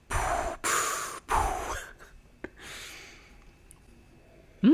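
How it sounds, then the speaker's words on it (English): Heavy nasal breaths drawn in while smelling white peach flavored water, three loud sniffing bursts close to the mic, then quieter breathing and a short sharp sniff, ending with a sudden loud breath. "You can hear me breathing."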